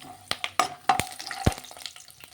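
Peanuts and cashew pieces frying in oil for pulihora, a soft sizzle broken by several sharp crackles and pops close by, with no voices.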